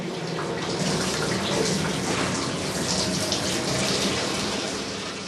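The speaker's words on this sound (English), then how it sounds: "Freed of coarse solid contaminants, the hot wax-water mixture runs into a wooden tub." A hot wax-water mixture, freed of coarse solid contaminants, pours steadily into a wooden tub with a continuous, loud gushing splash that stays unbroken throughout.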